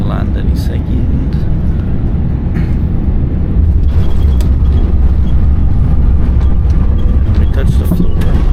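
An airliner lands in Singapore with a loud, steady rumble of engines and a rushing cabin roar, heard from inside the cabin with bumps and rattles.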